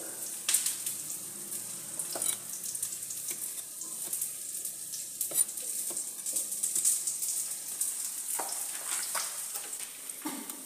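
Tofu fries in a pan with a steady, soft sizzle and crackle, punctuated by occasional louder pops and scraping stirs, close by with no talking.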